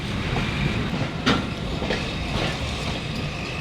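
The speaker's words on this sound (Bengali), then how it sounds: "এটা ভারত থেকে ট্রেন আসা ভারতের ট্রেন" A train from India stands at or rolls into Rohonpur station, Bangladesh's westernmost rail stop, giving a loud steady rumble of rail cars with faint clatter and one brief sharp knock.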